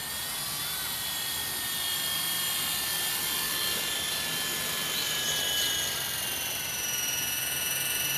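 A Sky Dancer single-blade RC helicopter whines steadily up close as it comes in to land, its high rotor and motor tone continuous and loud throughout, with no talking.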